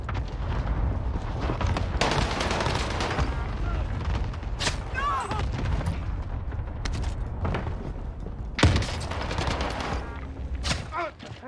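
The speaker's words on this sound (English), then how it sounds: "Allied cluster strike arriving." Cluster strike explosions crash across an island battle in Call of Duty Warzone's Rebirth Island, a rapid, irregular series of booms and blasts with sharp gunfire cracks mixed in, rolling on loudly for around eleven seconds.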